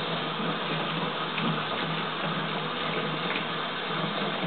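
Tap water runs steadily over broccoli florets being rinsed, a continuous close hiss and patter with no pauses and no voices.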